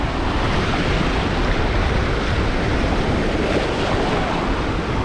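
Steady roar of ocean surf at Pensacola Beach, Florida, in the evening, washing in continuously, broad and close, with wind noise buffeting the microphone and no voices.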